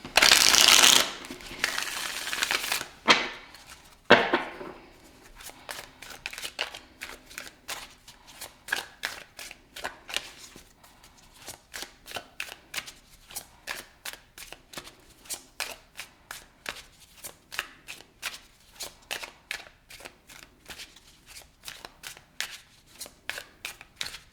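Tarot cards being shuffled repeatedly, a quick riffling burst at the start followed by many crisp, rhythmic flicks and slaps, close and fairly quiet.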